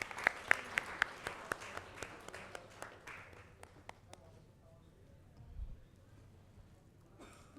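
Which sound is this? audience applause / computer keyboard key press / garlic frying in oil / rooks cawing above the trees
audience applause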